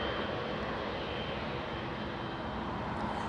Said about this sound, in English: Air France 69er flying to Paris, a 777-300.